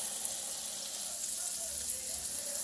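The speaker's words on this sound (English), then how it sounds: "So we're going to fry this off like this" Veal saltimbocca pieces, prosciutto side down, fry in a pan with a steady, bright sizzle that holds at an even level throughout, moderately close and with no one speaking.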